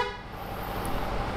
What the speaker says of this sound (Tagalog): horn button,